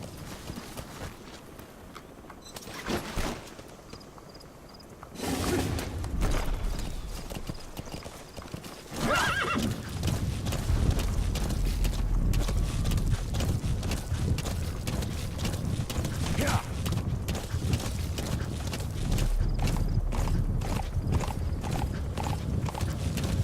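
In a video game, Metal Gear Solid V: The Phantom Pain, a horse whinnies, then its hooves clip-clop in a quick, steady galloping rhythm that carries on loudly, with occasional faint voices.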